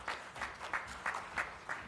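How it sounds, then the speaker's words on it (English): Faint applause at a symposium meeting, a few rhythmic bursts of clapping repeating at an even pace, heard from a distance. "A big round of applause for Mr."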